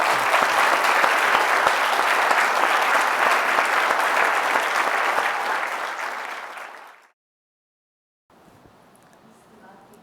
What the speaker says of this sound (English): So please may I ask for another round of applause and thanks for Mr. Maki.